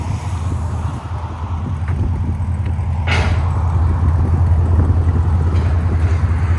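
An E85-tuned Chevy Camaro with an LT1 6.2L V8, headers and OBX mufflers gives off a deep, steady low rumble that gradually swells louder, mixed with wind buffeting and no talk.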